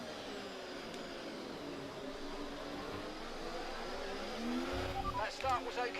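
A Formula 1 race car engine in the F1 24 video game, driving at the United States Grand Prix, gives a steady high-pitched drone that rises in pitch and swells louder near the end.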